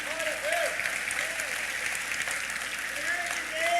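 A church congregation clapping for Jesus during a sermon, dense sustained applause filling the room with scattered cheers and a voice calling out over it.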